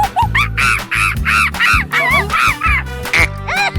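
A cartoon duck quacks in a quick run of nasal, squawky calls, loud and close, with short gaps, over a bouncy low musical backing.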